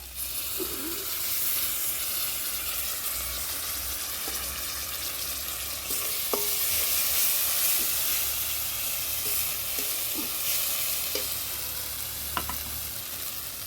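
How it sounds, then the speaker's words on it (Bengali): Ground cumin, coriander and bay leaf paste frying in oil for a vegetarian cabbage dish, a steady close hiss and sizzle with a few faint clinks of stirring. "এরপরে দিয়ে দিচ্ছি জিরে ধনে আর তেজপাতা বাটা"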